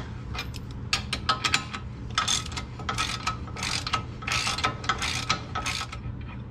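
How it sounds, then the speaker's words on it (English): A hand ratchet working loose the axle bolts on a Jeep TJ, bursts of rapid clicking strokes repeating unevenly over a low background hum, close by with no talk. "Switch to our normal ratchet."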